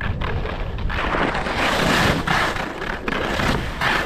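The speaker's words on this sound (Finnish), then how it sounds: "Tuuli on vähentynyt täällä päin." Strong wind buffeting the microphone while kite skiing on the frozen sea of Kainuu, a loud continuous roar with gusty swells and dips, no voices.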